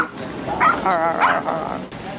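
A dog gives a few yipping, wavering barks and whines up close, with some noisy background throughout.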